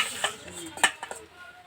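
A utensil scrapes and clinks faintly against a karai as hot oil is spread around it before fish is fried, giving a few brief metallic strokes in under two seconds.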